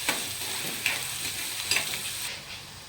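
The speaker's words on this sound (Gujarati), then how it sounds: "ડુંગળી થોડી સંતરાય ત્યાં સુધી આપણે આ રીતના મિક્સ કરતા રહીશું." Onions sizzle in hot oil in a pan while being stirred, a steady frying hiss with a few scraping stir strokes, close and alone.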